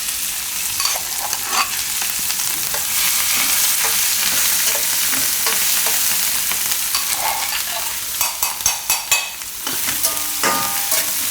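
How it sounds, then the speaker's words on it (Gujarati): Thecha chili paste fries in hot oil, a steady loud sizzle under stirring, with sharper spatula scrapes and pops clustering near the end. "હવે આપણે જે ઠેચા બનાવ્યું એ આપણે આમાં નાખી દઈશું તેલમાં."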